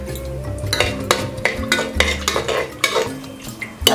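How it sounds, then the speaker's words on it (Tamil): Cinnamon, cloves and cardamom go into hot oil in a pan, bringing short bursts of sizzling mixed with repeated metallic scrapes and clinks from stirring, close and fairly loud. "எண்ணெய் காய்ஞ்சிடுச்சுங்க, பட்டை போடுறேங்க."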